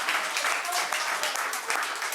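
Studio audience applause during a cooking segment, a steady, dense wash of clapping that holds at an even level throughout, with voices mixed in beneath it.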